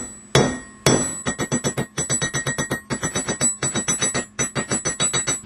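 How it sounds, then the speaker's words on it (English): Orange-hot steel rod is forged with a hammer, two heavy opening blows followed by a fast, steady run of ringing metallic strikes in close rhythmic groups, loud and near. "Alright, first hammerings."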